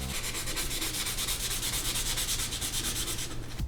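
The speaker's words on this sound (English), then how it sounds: "I'm gonna actually sand her down to like dull her up a little bit." Close, steady rhythmic sanding rasps across a shiny gold strip on a wooden cabinet, a continuous back-and-forth scrubbing with no talking.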